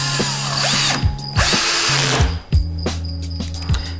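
A power drill drives screws into an Animal Plastics plastic animal cage, with several short whirring bursts and ratcheting clutch clicks, close and loud, separated by brief pauses.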